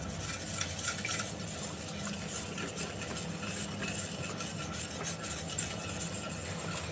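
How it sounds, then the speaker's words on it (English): Melted candle wax being whisked in a bowl in one direction produces a faint, steady scraping and swishing that runs continuously with a quick, even rhythm and no talking. "always whisk it in one direction"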